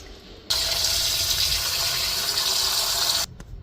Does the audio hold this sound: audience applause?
no